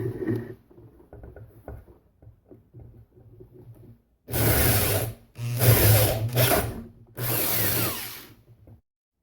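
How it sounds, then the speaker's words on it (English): A power drill bores small holes with 2mm and 5/16 bits for a model RC ship hull, four loud whirring bursts of drilling after quieter handling and tapping sounds at the start. "Four little holes with a 2mm bit. And then follow it up with a 5/16 bit."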